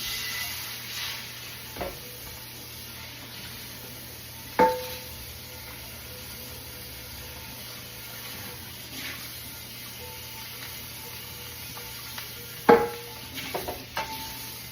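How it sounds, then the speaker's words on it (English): A frying pan used for cooking chicken is being cleaned, with a faint hiss in the background and a few scattered clanks and scrapes of metal at irregular intervals, quiet and close. "So we're going to clean the pan."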